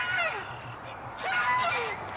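Ducks let out into a yard give a few nasal honking quacks in two short bursts, close by and moderately loud over faint background noise.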